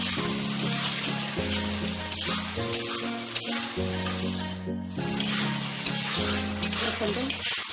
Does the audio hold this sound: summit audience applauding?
no